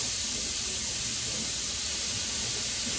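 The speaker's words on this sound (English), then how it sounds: "add the butter and olive oil to the pan, and to add in the sausage and pepper" Sausage and peppers sizzling in butter and olive oil in a hot pan, a steady, close, bright hiss with faint crackles underneath, no voices.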